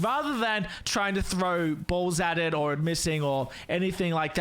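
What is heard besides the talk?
No everyday noises stand out.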